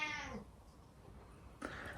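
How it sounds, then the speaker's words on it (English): A house cat screams in a kitchen, one short strained cry at the start and a second brief yowl near the end, fairly faint with quiet room noise between. "And that's the cat screaming."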